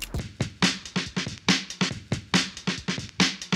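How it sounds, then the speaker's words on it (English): Sampled drum break looping through a tight, punchy pattern of kicks, snares and hi-hat hits in an even groove, clear and upfront with nothing else playing. "So I have this drum break right here,"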